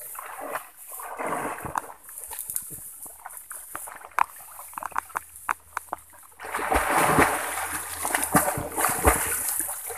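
Water splashing and sloshing as someone bathes in shallow swampy water about three to four feet deep outdoors, with irregular close splashes that grow louder and busier toward the end.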